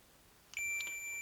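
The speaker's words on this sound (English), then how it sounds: "you just cross the two and it will beep" A digital multimeter gives a short, steady high-pitched continuity beep as its crossed test leads touch, loud and clear over a quiet background.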